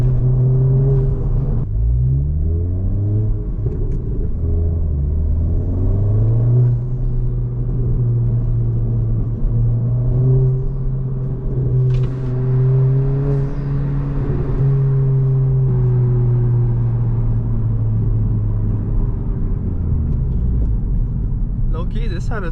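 Steady low road rumble and engine drone from inside a moving 2022 Honda Civic Si on rough, busy town streets, continuous and fairly loud throughout, with the engine pitch rising and falling as it accelerates and shifts.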